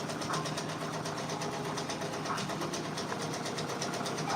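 An embroidery machine stitching out a Drake patch whirs and chatters in a fast, even rhythm, close and continuous throughout with no talking.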